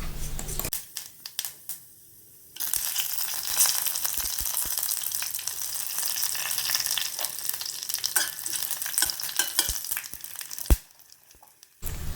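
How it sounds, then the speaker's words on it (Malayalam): Mustard seeds, fenugreek, dried chillies and curry leaves fry in hot oil for a drumstick leaf curry, giving a loud, steady sizzle with crackles and pops after a brief quieter start. "കുറച്ച് കടുകും ഉലുവ, വറ്റൽമുളക്, നമ്മുടെ വേപ്പിലൊക്കെ ഇട്ട് കൊടുത്തൊന്ന് വറുത്തെടുക്കണം."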